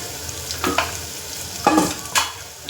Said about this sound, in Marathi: अद्रक लसूण चांगलं तळू द्यायचं बघा, मस्त तळत आहे ना तेलामध्ये गरम